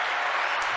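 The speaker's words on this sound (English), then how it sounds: "I told you I was gonna hit that applause button again" A short podcast applause sound effect plays, a dense burst of clapping and crowd noise lasting under a second.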